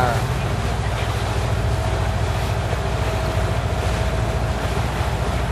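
A motorboat carrying fish motors past on the river at the Cái Răng floating market, a steady low engine drone with wind and water noise throughout, no clear talking.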